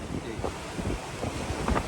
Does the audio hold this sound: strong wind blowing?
yes